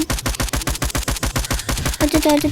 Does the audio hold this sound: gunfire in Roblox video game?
yes